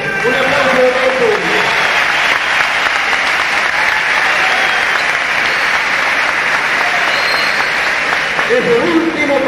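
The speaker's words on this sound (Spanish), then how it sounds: "Quiero pedir un aplauso especial para el doctor Mangel, porque es el único médico que ha dicho sí al boxeo." A crowd at a professional international boxing event breaks into loud, sustained applause that fills the venue for several seconds, with an announcer's voice heard just before it and again as the clapping ends.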